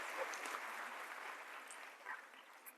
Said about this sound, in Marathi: एकदा जोरदार टाळ्या सुरू.